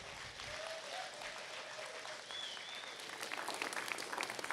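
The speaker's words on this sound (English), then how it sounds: "give them a big round of applause" Steady applause from a church congregation at a Mother's Day service, a dense, continuous clapping that swells slightly louder toward the end, with no talking over it.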